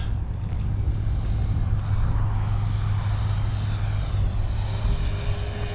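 Freewing 70mm Yak 130 RC model jet with its landing gear down, making a pass overhead with a steady, airy ducted-fan whine and rumble at a moderate distance, no talking.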